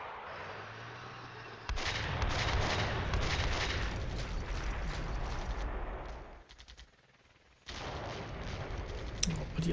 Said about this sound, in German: Oh, die Artillerie, das tut weh.